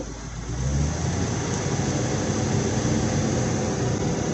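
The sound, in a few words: 1979 Chevy van engine starting and idling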